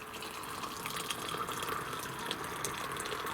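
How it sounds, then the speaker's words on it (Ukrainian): Boiling water is poured from a kettle into a thermos during a winter fishing trip on the Dniester, making a steady, close, continuous watery rush that lasts throughout with no talking. "з дому я завжди роблю собі термос просто з окропом. гаряча водичка, я просто заливаю"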